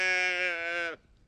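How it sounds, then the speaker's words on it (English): A sheep bleats once, a loud, sustained farm-animal call lasting nearly a second and cutting off abruptly, heard alone and close. "Sheep."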